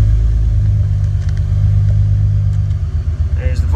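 A supercharged 2003 Honda Pilot's engine hums with a steady, loud, close idle during a throttle check, wavering slightly toward the end.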